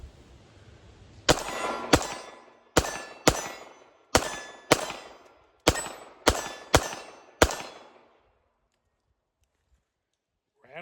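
A Ruger LCP Max .380 pocket pistol fires ten sharp, loud shots at an uneven pace, each a crisp crack with a brief ringing tail, then falls silent.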